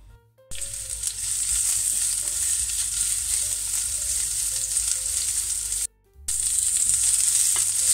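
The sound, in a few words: onions sweating in olive oil in a pan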